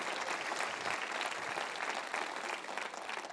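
A church congregation claps together in a full, continuous round of applause, dense and steady, tapering slightly at the close.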